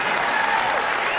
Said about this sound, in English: this Covelli Center crowd appreciating the efforts